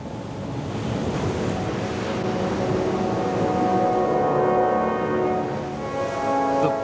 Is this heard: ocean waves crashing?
yes